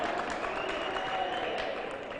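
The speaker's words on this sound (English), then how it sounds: "you can see the Dragons over there clapping loudly for every single run" Steady applause from spectators at a cricket final in June, a continuous patter of clapping from a crowd that sounds somewhat distant and fairly quiet, without a break.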